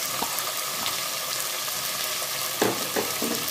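Chopped tomatoes frying in a pan of oil for drumstick sambar, a steady close sizzle with a few brief stirring clatters near the end and no talk.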